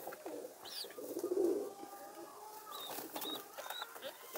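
A young pigeon bred from a Haji Ganji female and a Badshah pigeon coos softly in a quiet setting, with a low, rounded coo near the middle and a few faint chirps and bird calls around it.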